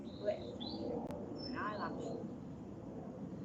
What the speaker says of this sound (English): I think there's a blackbird actually making that noise